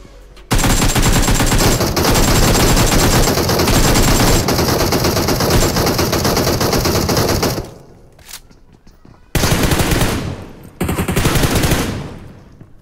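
Loud, sustained automatic gunfire from a battle royale video game, nearly continuous rapid bursts that drop out briefly, then return in two more heavy volleys before fading.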